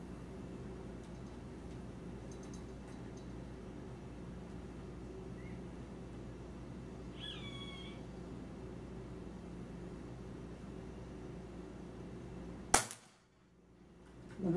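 A single sharp crack of an Air Venturi Avenger air rifle firing a JSB 15 pellet, sudden and loud near the end, over a steady low background hum.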